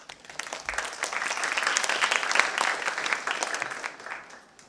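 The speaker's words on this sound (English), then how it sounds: "Please welcome her with a big round of applause." An audience at a high school tournament final applauds to welcome the chief adjudicator: dense, sustained clapping that swells to a steady peak and then eases off slightly, with no voices over it.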